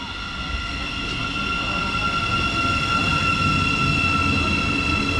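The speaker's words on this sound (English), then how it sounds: "this is the 11:35 to Cambridge just arriving, 700-021" Class 700 electric train, unit 700-021, arriving at a station platform. A steady loud rumble carries strong sustained whining tones and holds throughout, with no talk.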